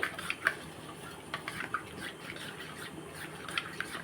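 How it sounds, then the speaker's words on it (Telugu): Water boiling in a pot gives soft, irregular bubbling and small popping drips, a low continuous simmer with light pops throughout. "ఇదిగోండి వాటర్ మరుగుతుంది"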